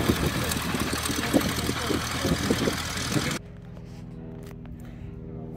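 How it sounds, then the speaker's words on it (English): The Wright engine of a 1926 Travel Air Model 4000 biplane runs with a loud, steady rumble for about three seconds, then cuts to a much quieter low drone at a grass-roots fly-in. "Model 4000 Travel Air with the Wright engine."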